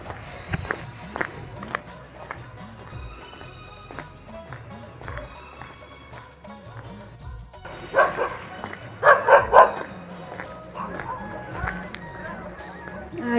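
A dog barks and yips excitedly as people arrive home, with short woofs scattered through and a louder burst of rapid barking near the end, mixed with footsteps and people talking close by.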